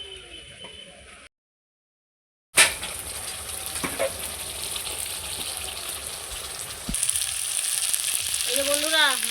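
Potatoes cut in large chunks fry with masala spices in oil for a Bengali rohu fish-head curry, a steady bright sizzle running throughout after a brief silent gap, with occasional scrape of a spoon.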